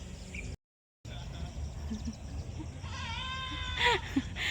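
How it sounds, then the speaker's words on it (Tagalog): Sheep on a farm bleat in a faint, distant chorus of wavering calls, with a louder nearby bleat near the end over low outdoor background noise; a voice speaks quietly. "Ayan yung mga tupa, ang dami pa niyan doon sa may kabilang yun."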